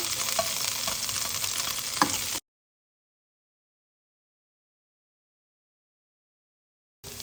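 Garlic sizzles and is stirred in a hot pan while a low-carb beef tongue dish is cooked, a steady close frying hiss for about two seconds before the sound cuts to silence and briefly returns at the end.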